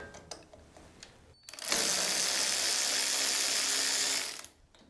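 A ratchet loosens a 3/8 bolt on the engine of a John Deere riding mower, first a few faint clicks and then a loud, steady run of rapid ratcheting that stops abruptly after about three seconds.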